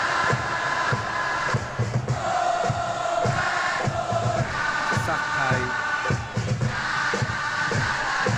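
Football stadium crowd in PES 2021 roaring steadily with swelling cheers, a dense continuous wash of voices under a commentator's talk.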